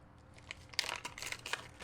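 A Ziploc bag and wax paper wrapping around a RevoRing variable ND filter are opened, giving a series of soft, close crinkles and rustles that grow busier partway through.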